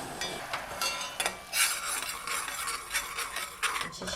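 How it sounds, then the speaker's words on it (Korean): Vinegar, sugar and salt stirred in a pot as it heats, a spoon scraping and clinking against the metal in irregular strokes over a soft simmering hiss. "냄비에 식초, 설탕, 소금 3가지를 넣고 저으면서 녹을 때까지 끓여주세요."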